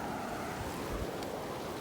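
A strong river current rushes steadily outdoors near Duarte, California, a broad, constant wash of water with some wind noise on the microphone.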